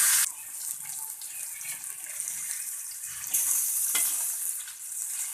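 Spicy fish pieces frying on a tava over medium gas, giving a steady hissing sizzle with a couple of sharper bursts as the oil crackles, close and without talk.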